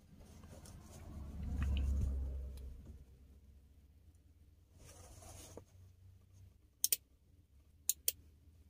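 Automotive relay energized by a 9-volt battery, with soft handling noise and then a few sharp, crisp clicks near the end, two of them close together.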